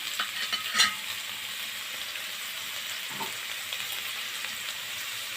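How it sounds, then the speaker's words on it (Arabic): Steady sizzling of onions frying in a pan until golden, a continuous hiss with a brief clatter of stirring near the start and no voices. "نصفر البصله"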